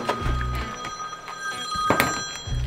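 A telephone rings in a workshop while a battery box is being fabricated, its bell sounding in repeated bursts near and fairly loud, with low thuds in between.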